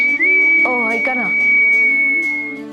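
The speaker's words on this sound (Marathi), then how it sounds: "शिट्टी वाजवू नका ना प्लीज." A person whistles a sustained high tone that holds steady for over two seconds, heard close, while a voice speaks briefly beneath it.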